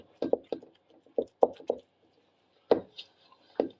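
Dough is pressed and slapped onto a counter while kneading for a simple holiday bread, with about eight close, dull thumps at an irregular pace and quiet gaps between.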